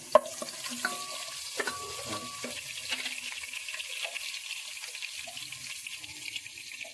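Onions and polao rice fry and get stirred in a pan for biryani, giving a steady close sizzle with scraping stir clicks and clatter, strongest in the first few seconds.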